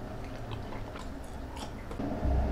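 Close, soft chewing of tteokbokki rice cakes and sundae blood sausage, a continuous wet mastication with small crunchy bites and a louder thump near the end.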